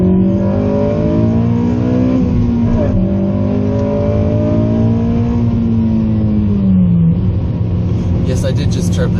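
A 2007 Honda Civic Si engine drones loudly from inside the cabin while accelerating, its pitch climbing and then dropping on an upshift into third, with any tire chirp buried in the constant roar.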